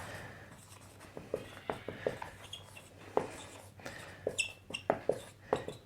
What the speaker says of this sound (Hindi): चलो यहां लिख देते हैं